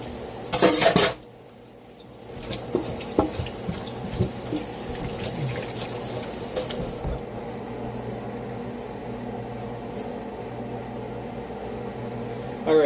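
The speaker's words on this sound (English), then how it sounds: "I stir this every couple minutes because otherwise it's going to really stick" A spoon scraping and clinking around a pot of food being stirred in a home kitchen, with a few loud knocks early on, then steady soft scraping over a humming background, close by.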